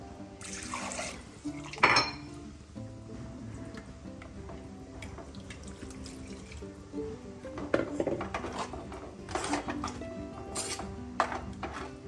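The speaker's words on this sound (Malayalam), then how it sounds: "കുറച്ചൊരു വെള്ളം ചേർത്ത് കൊടുക്കാം" Water splashes and pours into a pot of curry with ground coconut and coriander in a couple of short bursts, with light clinks of utensils and quiet kitchen ticking between.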